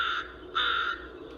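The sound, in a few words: crow cawing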